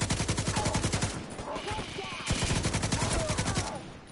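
Rapid automatic gunfire in the Division 2 co-op shooter, sustained bursts of loud close weapon fire with brief pauses, one short lull before shooting resumes, with voices talking faintly underneath.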